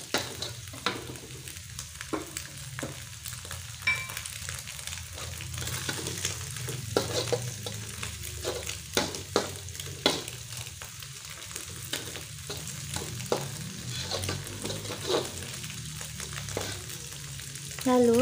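Green bird's eye chilies tossed and stir-fried in a hot pan for stir-fried bean sprouts with scrambled egg, a steady close sizzle broken by repeated scraping stirs, with no talking.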